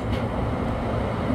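New York subway E local train on the 6th Avenue line running toward Delancey Street-Essex Street, a steady loud rumble of wheels and car noise with no voices.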